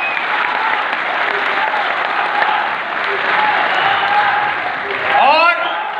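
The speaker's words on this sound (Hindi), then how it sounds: "एक बार जोरदार तालियां आप अपने लिए बजा सकते हैं।" A large crowd at a Modicare team gathering claps loudly and steadily for several seconds, a thick sustained wash of applause with some voices and a brief rise near the end.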